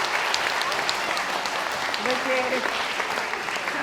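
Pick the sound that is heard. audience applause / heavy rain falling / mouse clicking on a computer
audience applause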